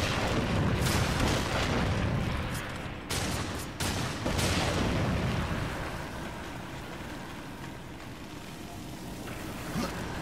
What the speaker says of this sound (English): What the hell are there bombs over there?